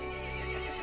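Horse neigh from the video game Resident Evil Village, a single close, loud whinny holding steady across a brief moment over a dense, tonal game backdrop.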